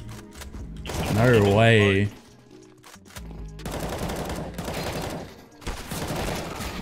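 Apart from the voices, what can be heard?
AK rifle gunfire in video game CS:GO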